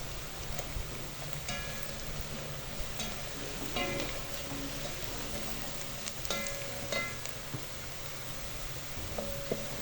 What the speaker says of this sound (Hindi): प्याज को घी में 2 से 3 मिनट फ्राई करेंगे ताकि प्याज का कलर चेंज हो जाए।